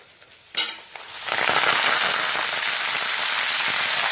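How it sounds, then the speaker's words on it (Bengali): Bottle gourd greens dropped into hot oil tempered with bay leaf: a sharp hiss as they land, then a loud, steady sizzle that swells and holds close up. "তো এর ভিতর আমি এখন শাকগুলোকে দিয়ে দিচ্ছি।"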